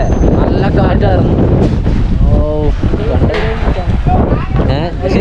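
Strong wind roars without letup against the microphone on an open road during an auto-rickshaw trip, loud and buffeting, with people talking underneath it.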